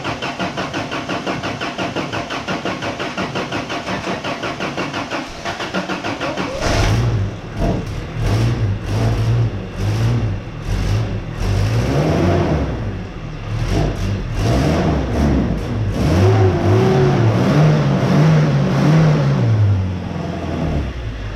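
A neglected carbureted first-generation Toyota 4Runner engine cranks for several seconds, catches and fires up, then revs unevenly in rising and falling bursts, loud and close.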